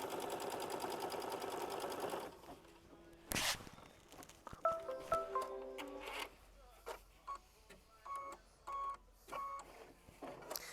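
A sewing machine stitches quilt pieces for a flower bouquet block in a short run, followed by scattered clicks, taps and handling noises at moderate loudness.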